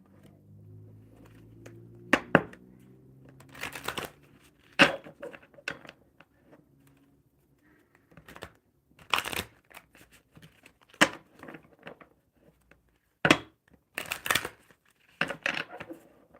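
Tarot deck being shuffled by hand, a series of short crisp papery riffles and taps in separate bursts with quiet gaps between, close and moderately loud.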